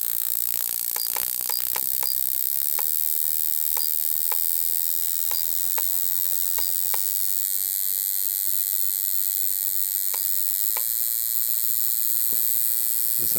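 A rotary engine running with surface gap spark plugs holds a steady, high, thin whine throughout, nearby and constant, with scattered sharp ticks and clicks over the top.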